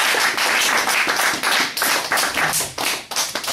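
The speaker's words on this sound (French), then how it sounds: "Nous pouvons applaudir pour l'Éternel" Audience clapping at a church presentation event, a group of hands clapping in close, uneven bursts with sharp individual claps standing out, fairly near and without talk.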